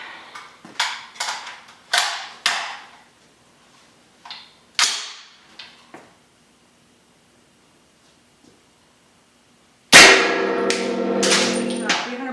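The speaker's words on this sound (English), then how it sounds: "I'm shooting a 208 grain 300 Blackout subsonic through a suppressor" Suppressed shots from a 300 Blackout AR pistol firing 208 grain subsonic rounds come as sharp, clanging reports in an irregular series with ringing decay. After a long quiet gap, one louder blast follows with a sustained metallic ring.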